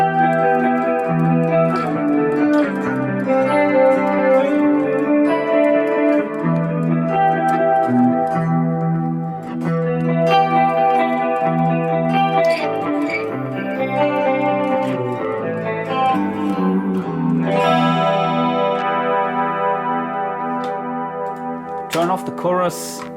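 A distorted electric guitar with both humbuckers engaged, a Harley Benton Fusion 3 HH through a Fractal Audio FM9, plays sustained chords and riffs continuously, thick and saturated, with no voice over it.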